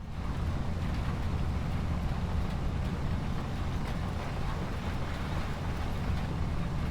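A tractor engine in Farming Simulator 25, working a field while sowing carrots and corn with a new seed drill, gives a constant low rumbling drone under wind-like noise, steady and unbroken with no talk.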